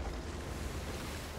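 Roaring wind and crashing waves of a storm at sea in the pirate game Sea of Thieves, a loud, dense, unbroken rush of noise with heavy low rumble.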